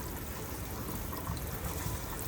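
Water pours from a bathroom faucet with a pull-down sprayer set to waterfall mode, a close, steady splashing stream with no pauses.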